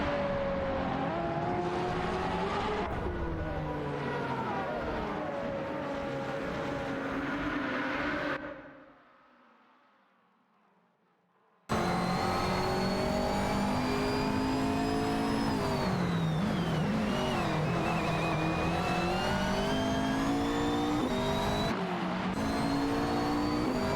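Race cars roaring in a racing video game, continuous engine drone with revving pitch shifts, briefly dropping away to a quiet gap before the engines return at full volume.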